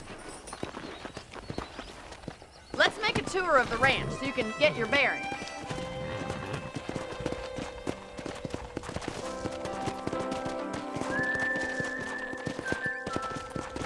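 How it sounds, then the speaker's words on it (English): Horse hooves clip-clopping at a steady walking pace in the video game Red Dead Redemption, with game music and someone talking over them throughout. "Okay, let's see if you can still ride a horse."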